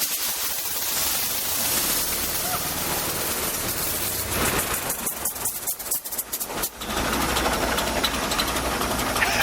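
A vintage car engine in an automobile museum restoration workshop cranks over and catches, then settles into a steady, loud, rough idle close by.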